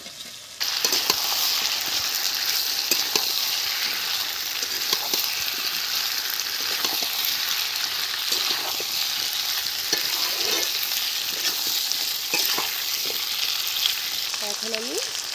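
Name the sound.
frying potatoes in spiced masala with ginger, garlic, onion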